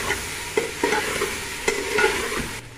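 Spoon scraping and stirring through chicken in a pot as food colouring is mixed into a chicken achari biryani, with a steady frying sizzle and several sharp clinks against the pot, close and fairly loud.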